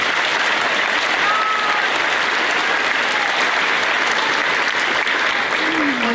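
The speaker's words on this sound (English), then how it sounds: "Let's give these boys and girls a round of applause." Steady, dense audience applause fills a 5th grade graduation ceremony at an elementary school, continuous and even for the whole stretch with no pauses.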